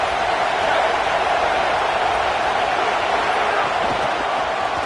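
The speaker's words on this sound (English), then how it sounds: "Decibels rising as the crowd gets behind this defense on third down." College football stadium crowd at a Notre Dame vs USC game, roaring behind the defense on third down: a loud, steady, dense wall of crowd noise that holds throughout.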